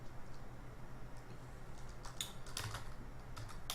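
Quiet computer keyboard typing, a scattering of soft clicks and key taps with brief bursts, faint and close in a calm room with no talk.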